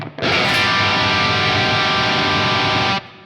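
An electric guitar plays through the Line 6 HX Stomp Revv Purple amp model, producing a loud, gritty distorted chord that is held for about three seconds and then cut off.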